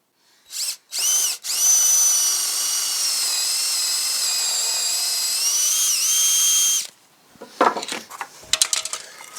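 A power drill whirs into wood in two short bursts, then runs steadily for several seconds before stopping, followed by clattering and light knocks.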